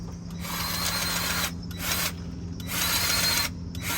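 Hand-pumped grease gun works the fittings on a truck, giving repeated rasping mechanical strokes in a steady rhythm with brief pauses between them, close and clear.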